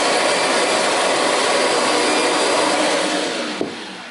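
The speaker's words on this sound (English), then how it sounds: "vacuum the carpet with it" A Kirby Avalir 2 vacuum cleaner runs steadily on carpet, a loud continuous broadband roar that holds level before easing slightly near the end with a brief knock.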